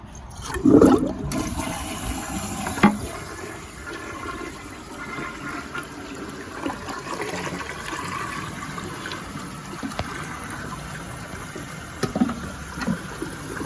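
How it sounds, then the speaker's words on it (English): A toilet fitted with a new Creed flapper ball flushes with a loud, close rush of water that settles into a steady draining and refilling hiss that lasts throughout. "Okay, let's go ahead and flush it."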